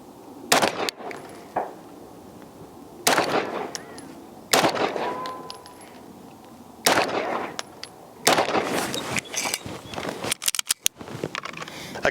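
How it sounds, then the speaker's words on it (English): A Staccato pistol fitted with a Parker Mountain Machine compensator fires about seven or eight sharp, loud shots at an outdoor bench rest, spaced irregularly and ending in a quicker burst. "we made our adjustments, shooting the second group"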